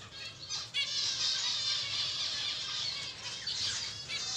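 Young birds with yellow beaks squawk steadily in a dense, fairly loud chorus of overlapping high calls, with a low rumble of background noise underneath and no voices.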